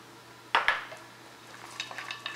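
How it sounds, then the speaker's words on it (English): A spoon knocks twice against a pot while cashews are stirred for mutton biriyani, followed by lighter scraping and clinking, close up and with no one speaking. "Just stir it."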